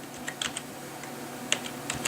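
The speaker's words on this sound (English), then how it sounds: "I'm just going to keep typing in here" Typing on a computer keyboard, with sparse, uneven close key clicks over a steady hum of background noise and no talk.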